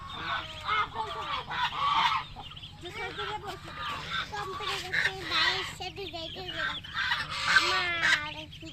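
Ducks and ducklings on a hillside village farm, quacking and peeping in a busy, overlapping chorus, with people talking close by throughout.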